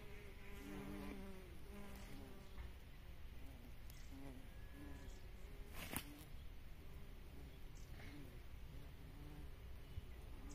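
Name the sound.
bees buzzing around flowering plant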